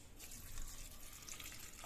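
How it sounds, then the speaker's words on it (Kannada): Water pours into a pot of lentils with fenugreek leaves, turmeric and a little oil for methi dal, a steady close splashing stream running alone for the whole stretch. "ನೀರು ಹಾಕೊಂಡ್ಬಿಡಿ"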